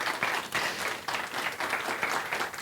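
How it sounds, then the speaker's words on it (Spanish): Church audience giving a big round of applause, a dense, continuous clapping crowd with slight swells, fairly close and filling the whole short stretch. "Dense un gran aplauso,"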